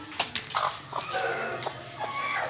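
A hen kept with a rooster and pigeons clucks in short repeated calls, fairly close, over a steady background noise with bird sounds scattered throughout.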